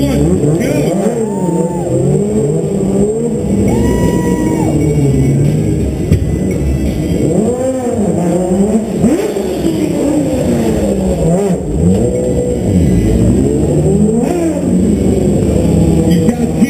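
Stunt-show motorcycles rev and accelerate off the start at an outdoor show in New York City. Their engines rise and fall in loud, overlapping whines and rumbles throughout, under an announcer talking over a PA.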